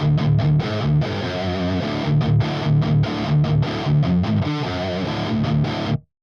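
Heavily distorted electric guitar loop aiming at a particular metal tone, loud and boomy with thick low end, chugging palm-muted riffs and choppy rhythmic stops, playing alone until it cuts off.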